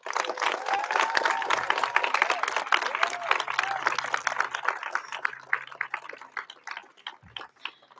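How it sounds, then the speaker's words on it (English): A standing high school graduating class gives a round of applause at its graduation ceremony, dense clapping with cheers and voices that gradually thins into scattered individual claps. "give a quick round of applause as a token of our gratitude"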